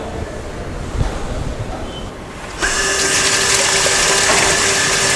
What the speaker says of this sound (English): Now we shall start the pump.